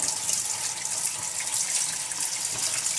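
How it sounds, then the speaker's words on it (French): Lukewarm water runs steadily from an LED cascade faucet, a continuous bright hiss and splash that stays even throughout, close by, with no voices. "on a une eau tiède qui sort du robinet"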